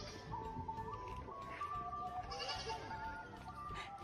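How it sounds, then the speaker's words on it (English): A black goat bleats at a zoo, the calls rising out of a busy, continuous background of other animal and ambient noise, with no speech. "Here's another goat."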